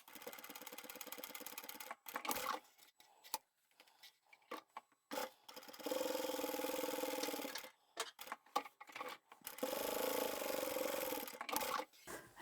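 A sewing machine top stitches a fabric scissor pouch in several runs: a fast, even mechanical whir in bursts of a few seconds, separated by pauses and small clicks, close and clear with no talk.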